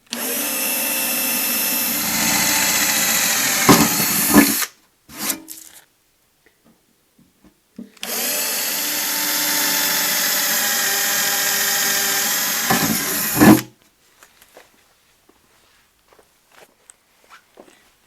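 An electric drill with a 3.5mm bit whirs loudly in two sustained bursts of about five seconds each, drilling pilot holes in an avionics tower panel, separated by a quiet pause with light handling clicks.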